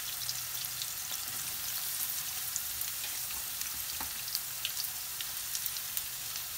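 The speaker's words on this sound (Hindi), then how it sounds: "शिमला मिर्च के साथ हम प्याज को भी फिर से दो मिनट पका लेंगे" Onion and capsicum frying in a pan for Maggi chowmein, a steady soft sizzle with scattered small crackles and pops throughout, moderately quiet and with no talking.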